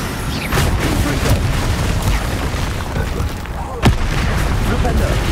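A Confringo fire spell from Hogwarts Legacy, the wizarding video game, bursts with a loud booming blast that cuts sharply through continuous rumbling combat noise and game sound.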